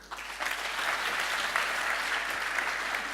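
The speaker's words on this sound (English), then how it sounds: "So please applause him." Audience at a developer conference applauding a speaker, steady clapping from a crowd filling the room, moderately loud and even throughout.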